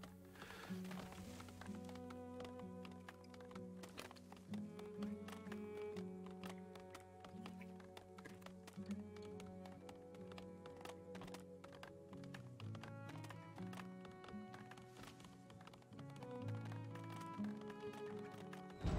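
A cow running about in the strategy game Farthest Frontier, rapid soft hoof thuds and clip-clops repeating over nearly twenty seconds, quiet and mixed with the game's tonal background music.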